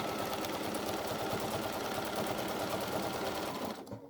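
A sewing machine quilts stitches through batting and backing, a steady close whirring chatter that runs for about four seconds before stopping abruptly.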